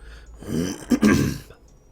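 A single short throat clearing, close and fairly loud, with no talking around it.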